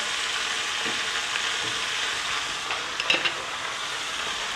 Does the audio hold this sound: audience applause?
no